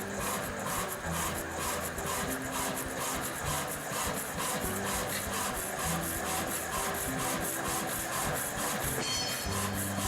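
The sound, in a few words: industrial hydraulic cut-off saw cutting a workpiece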